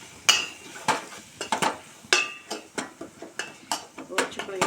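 A plate is set down in a home kitchen while tomato curry cooks. Many quick ceramic and metal clinks and knocks follow in an uneven rhythm, close by, with a voice talking in places.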